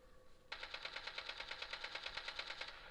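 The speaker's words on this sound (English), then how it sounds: "Sounds like gunfire." Rapid automatic gunfire in Call of Duty Mobile, played on a phone, bursts out after a brief quiet start, a steady rattling stream of shots continuing loudly to the end.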